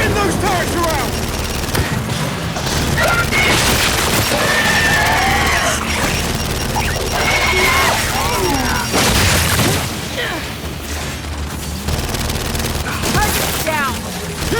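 Turret fire and explosions in the Gears of War 5 video game, with loud rapid bursts and heavy booms through a chaotic battle, while voices shout over the din and music plays underneath.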